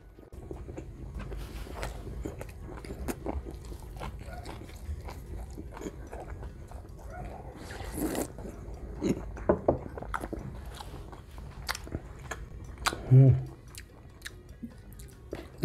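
Grilled pork belly (liempo) is chewed close to the microphone at an eating show, with repeated wet chewing and occasional crunchy bites over about fifteen seconds, while a person talks intermittently.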